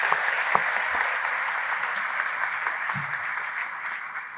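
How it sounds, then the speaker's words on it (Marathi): Audience applause at a Marathi political rally speech, a steady wash of many hands clapping throughout, fairly loud and continuous with no talking over it. "आपण खूप जोरदार टाळ्या वाजवल्या पाहिजे"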